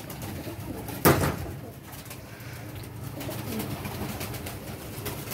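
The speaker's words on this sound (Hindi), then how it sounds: "जितने भी ये कबूतर आपको दिखा रहा हूँ टेडी और लाल आँख के कबूतर हैं" Teddy and red-eyed pigeons, a flock of about sixteen or seventeen birds, coo softly and continuously close by. A sharp louder burst of noise sounds near the start.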